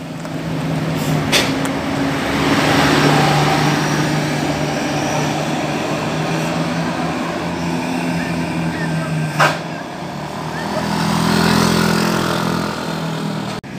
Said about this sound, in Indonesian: Ya, ini dia bosku, rombongan bus.